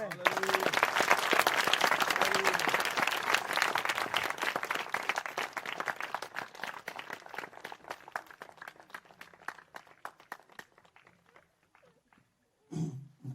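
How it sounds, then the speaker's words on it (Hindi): A church congregation at a Chhattisgarh convention applauds to glorify the Lord, dense clapping that is loud at first and then thins and fades over about ten seconds, followed by a short burst of voices near the end. "हम सब प्रभु की महिमा की तालियां देंगे"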